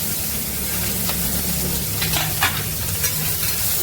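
Onions sizzle and fry steadily in a pan of oil with curry leaves and fennel seeds, a close, continuous hiss broken by a few louder crackles and stirring scrapes, with no talking.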